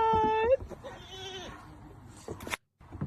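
A goat gives a loud, close, wavering bleat, followed by quieter rustling, people talking and handling noises.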